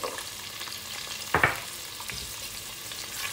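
Chopped onion and carrot sautéing in butter in a pan for an offal tagine, a quiet steady sizzle with one brief louder stirring burst midway.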